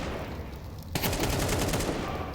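AK rifle fire in Counter-Strike 2 cuts in as a fast, loud burst of rapid automatic shots, close and dense, overlapping other gunfire for the rest of the moment.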